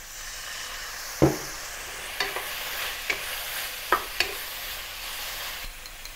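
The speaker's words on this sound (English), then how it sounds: "While stir frying the bitter gourd," Bitter gourd sizzles steadily in a hot wok while a utensil scrapes and knocks against the pan in a few sharp, irregular strokes.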